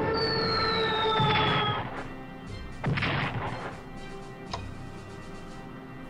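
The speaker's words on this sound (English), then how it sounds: "Let's bomb it a little bit." A bombing attack in the World War II strategy game Strategic Command 1939: a whistling descent, then a few sharp explosive booms and thuds at moderate volume, separated by quieter gaps.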